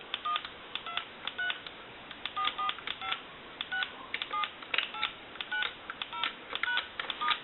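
Dialing tones from a Thomas Limited Edition telephone under repair, a rapid series of short clean beeps in uneven clusters, quiet and close with no talking.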